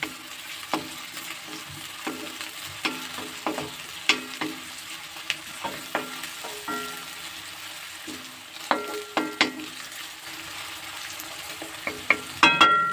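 Onions sizzle steadily in hot oil with popped mustard seeds while a utensil scrapes and clinks against the pan at irregular intervals.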